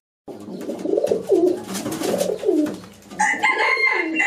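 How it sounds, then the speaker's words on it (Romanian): Newly bought pairs of domestic pigeons cooing close by, a steady run of soft, throaty burbling calls filling the whole clip, with no talk over them. "ăștia sunt porumbeii pe care tocmai mi-am luat astăzi noi"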